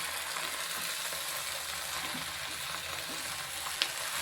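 Drumstick (moringa) leaves sizzle and fry steadily in a hot pan, a constant crackling hiss close up with a faint clink near the end.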